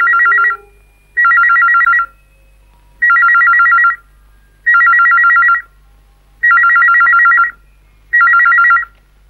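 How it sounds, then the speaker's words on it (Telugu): A telephone rings six times in even, loud electronic bursts with short gaps between them, heard alone in a quiet room. "ఫోన్ మోగుతుంటే ఎవరు తీరే?"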